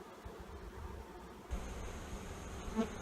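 Honey bees buzz around an opened hive during an inspection, a steady low droning hum that swells louder halfway through, with a close bee passing near the end.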